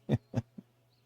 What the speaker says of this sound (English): Like his heartbeat is going or something.